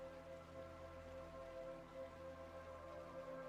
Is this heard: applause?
no